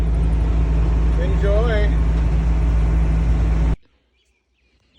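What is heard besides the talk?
diesel van engine while driving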